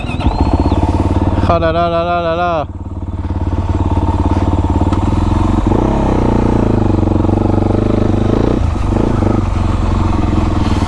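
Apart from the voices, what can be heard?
prototype quad with 450 YZF motorcycle engine starting and revving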